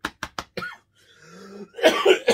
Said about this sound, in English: I just had a bit of a chesty cough there